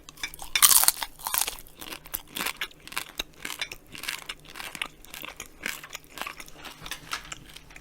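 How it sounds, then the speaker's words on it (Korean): Crunchy bites into a butter-grilled king prawn head, a steady run of crisp chewing and crackling close to the mic, loudest early and continuing in an irregular rhythm with no talking. "새우 버터구이 머리부터 한번 먹어줘."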